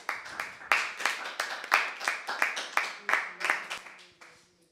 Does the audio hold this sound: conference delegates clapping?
yes